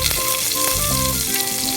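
Crushed ginger, garlic and mustard seeds frying in hot coconut oil in a pan, a loud, dense close sizzle with faint crackling, steady throughout with no talk.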